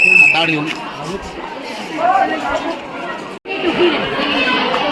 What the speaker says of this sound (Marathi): खूप भक्तजण आले सर्व बघा एवढी गर्दी आहे